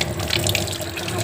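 Water pours steadily from a kitchen tap while hands are washed after mashing potatoes with salt and turmeric, a brief, close, continuous splashing gush.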